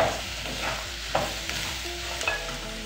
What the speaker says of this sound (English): So we're mixing up the beef and the onion.